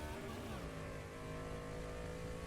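Engine of a race car in the rFactor 2 sim racing game, droning steadily with a sustained revving tone and a shifting pitch partway through as a rough gear change comes in, continuous and fairly loud with no talk over it.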